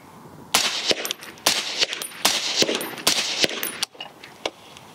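A suppressed PSA Sabre 10 .308 rifle fed from a Duramag magazine fires a quick string of muffled but punchy shots, each a dull crack with a short echo, then the action goes quiet.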